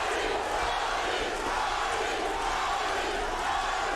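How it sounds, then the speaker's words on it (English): A boxing arena crowd at Arturo Gatti vs Wilson Rodriguez roars and chants Gatti's name, a loud, steady wall of massed voices that holds without a break for the whole stretch. "Crowd chanting Gatti, Gatti, Gatti"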